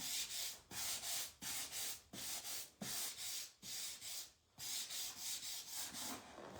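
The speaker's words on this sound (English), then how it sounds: "So I'm just going to give them a little scuff, but I'm not taking it all off." Painted wood of a garden sign is scuffed to distress it, making a steady rhythmic rasp of back-and-forth sanding strokes, about two per second, close and continuous with only a brief pause, and no speech.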